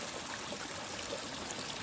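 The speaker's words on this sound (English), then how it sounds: "Stop by a stream to get water, eat snacks" A mountain stream on the Appalachian Trail flows and trickles steadily, a soft, even babble of water heard alone at moderate distance with no talking.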